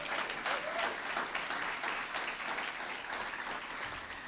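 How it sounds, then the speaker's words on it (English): Steady, dense applause from a large audience at a Women's History Month celebration, continuous close-packed clapping holding an even level throughout with no talk over it. "Let's give that a round of applause."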